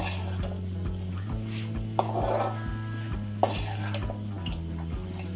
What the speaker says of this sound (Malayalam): എല്ലാ ഭാഗത്തേക്കും നന്നായിട്ട് ഇളക്കി.